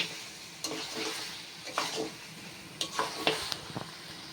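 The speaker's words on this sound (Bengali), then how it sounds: "টেংরিটা 5 মিনিট 5 কষে নেওয়ার পরে চর্বিটা দিয়ে আবারও 2-3 মিনিট কষে নেব।" Pieces of mutton leg and goat fat frying with spices in a pan, a steady close sizzle broken by several scraping stirs of the spoon, with no talking.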